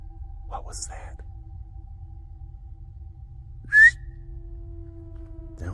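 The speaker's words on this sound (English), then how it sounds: "Didn't that sound like a whistle?" A single short, clear whistle rings out at night in the woods, a bright rising tone standing apart from a faint low rumble, with soft whispered voices around it.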